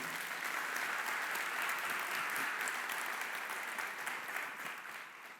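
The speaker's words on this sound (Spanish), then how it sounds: "Si le va a aplaudir, apláudale fuerte al Señor." Loud, sustained applause from a church congregation fills the space, dense and steady throughout before easing slightly toward the end.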